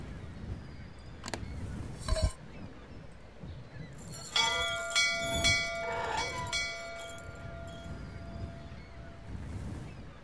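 A bell rings in the video game Syberia, sounding a sustained metallic tone with lingering overtones for several seconds after a few faint knocks and shuffles. It plays over a soft ambient background of wind and water.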